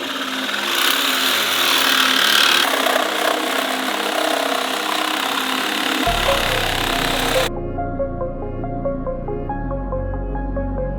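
A reciprocating saw cuts through the rusty stock exhaust on a car, giving a harsh, continuous buzzing rasp up close and loud, then changing abruptly partway through.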